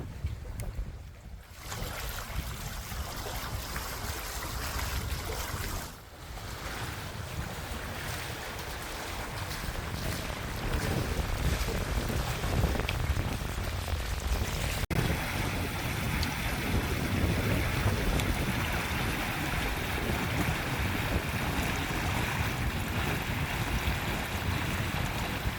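A sailboat sails off its anchor in stiff wind, with a steady rush of wind across the microphone and a continuous wash of water against the hull for the whole stretch.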